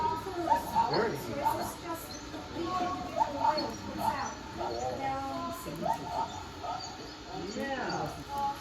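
Sped-up whale song sounds like a busy flurry of chirps, squeals and swooping whistles, faint and continuous, much like bird calls.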